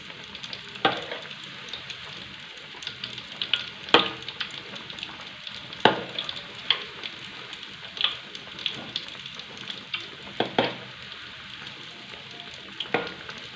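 Chicken-stuffed tofu fries in a pan over low heat with a constant close hiss, punctuated every second or two by crisp pops and spatters.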